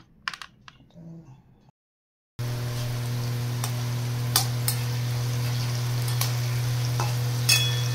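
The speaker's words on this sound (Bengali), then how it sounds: "এই যে ভেন্ডি ভাজা চলছে এখন" Okra frying in oil in a home kitchen pan, a steady close sizzle with occasional sharp clicks and stirring taps, preceded by a few seconds of light handling noise and a brief silence.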